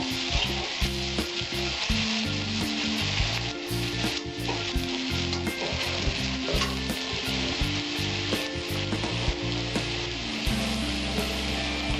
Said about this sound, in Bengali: পেঁয়াজটা একটু লাল লাল করে ভাজতে হবে